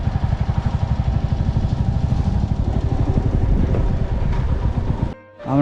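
A motorcycle engine runs with a steady, close throbbing rhythm as the bike is brought into a parking area at a hilltop ashram near Guwahati, then cuts out abruptly just before the end.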